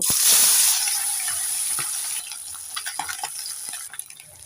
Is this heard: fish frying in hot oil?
yes